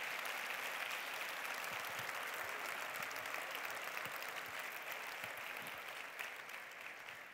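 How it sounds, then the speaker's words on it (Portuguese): A church congregation claps during a sermon, a steady, dense round of applause that holds evenly for several seconds before gradually thinning and fading toward the end. "Pode aplaudir Jesus mesmo, pode aplaudir Jesus mesmo, é muito bom."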